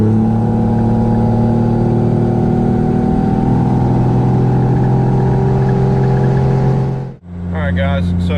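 A 12-valve diesel truck pulls hard under heavy boost, its engine drone steady and loud with a deep low rumble for several seconds before briefly cutting out and resuming more quietly.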